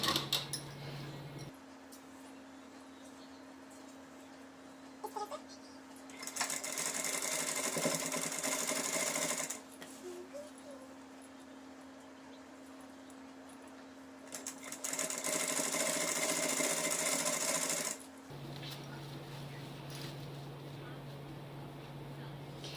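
A sewing machine stitches a suit lining in two sustained bursts of a few seconds each, close and loud, with quieter pauses between them.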